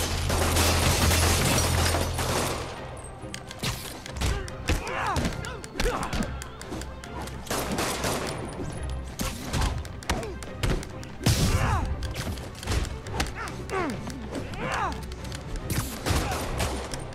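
Gunfire and thuds in a Spider-Man video game: a loud, dense barrage of shots and impacts runs throughout, with game voices shouting over the action.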